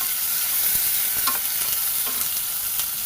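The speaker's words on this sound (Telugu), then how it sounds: "వెల్లుల్లి వేగినాక ఆనియన్ వేసుకుందాం." Onion frying with garlic in a pan for a fenugreek-leaf tomato curry, a dense continuous sizzle up close with faint stirring taps.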